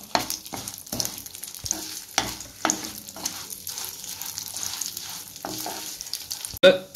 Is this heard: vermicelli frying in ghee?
yes